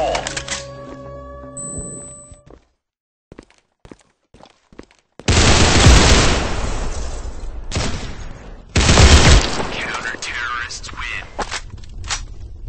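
A grenade blast and gunfire ring out in a shooter video game: a few scattered sharp shots, then two heavy roaring bursts of explosion and sustained fire, with a voice heard briefly at the start.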